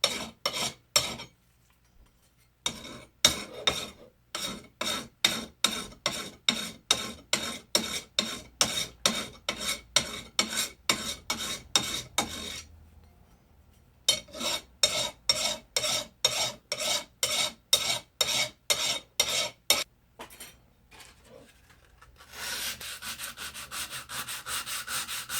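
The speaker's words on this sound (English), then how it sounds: "Find a little harder file, a little coarser file" A metal file works over the edge of an early timber framing chisel being restored, giving a long series of close, regular rasping strokes with short pauses between runs and a rougher, steadier scrape near the end.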